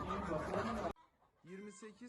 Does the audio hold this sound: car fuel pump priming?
no